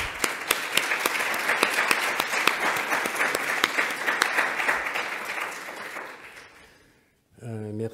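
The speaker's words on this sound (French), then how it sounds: "Donc je vous propose juste d'applaudir Aurélie." An audience applauds a colleague named Aurélie at a French industry-sector conference, steady clapping with sharp individual claps standing out, fading out near the end before a voice begins speaking.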